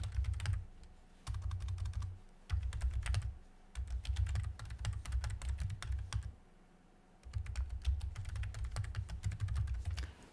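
Typing a message on a computer keyboard, a fast, close clatter of key taps in several bursts separated by short pauses, with no talking.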